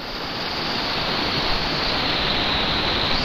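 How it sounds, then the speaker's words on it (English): Creek water flowing at a national park, a loud, dense, steady rush that fills the scene without pause or voices. "There's a much quieter creek over here."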